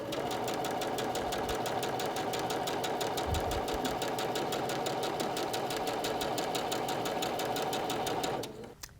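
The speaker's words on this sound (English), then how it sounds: "and then sew." A sewing machine runs steadily while stitching quilt pieces, with a fast, even needle rhythm close up and loud for about eight seconds before winding down and stopping.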